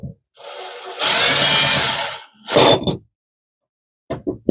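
A power drill set to low torque snugs screws into a river fishing kayak fitting, giving two close whirring bursts, one long and one short, then brief clicks near the end.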